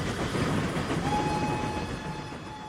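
A moving train in a wartime TV drama, rumbling steadily and loudly with clattering wheels and a thin sustained whistle-like tone over the top, no voices.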